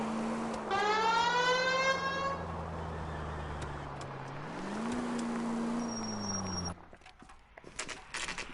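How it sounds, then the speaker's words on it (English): Police car siren in the L.A. Noire video game, a loud wailing tone rising and falling continuously over engine rumble for most of the stretch before cutting off abruptly near the end. "Please, Phelps, the siren."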